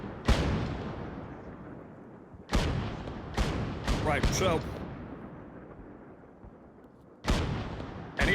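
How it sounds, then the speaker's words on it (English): Artillery shelling and gunfire in the video game Arma 3, several loud booming blasts with long decaying tails, spaced irregularly and punctuated by sharp gunshots, with a voice talking briefly. "And the shelling has started again."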